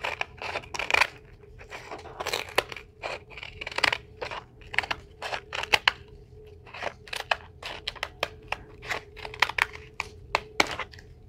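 Scissors cutting and trimming the edge of a papier-mache bowl, a long series of crisp snips and crunchy paper cuts in an irregular rhythm, close and fairly quiet with no talking.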